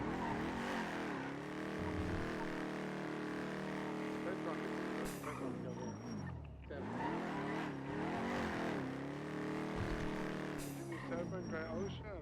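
A loud car engine in the video game NoPixel 4.0 revs and drones steadily with rising and falling pitch, dipping briefly before roaring back up, with a voice occasionally talking over it.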